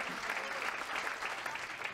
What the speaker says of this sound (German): deswegen begrüßt du mit einem besonders großen Applaus